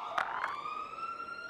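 A police siren wails close by. After a couple of short blips, a steady rising tone holds clear and fairly loud.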